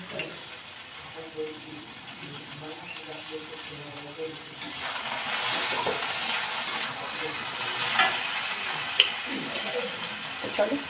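Chow mein stir-fried in a pan, a continuous sizzle with stirring and tossing noises that grows louder and busier halfway through, with a few sharp utensil knocks against the pan.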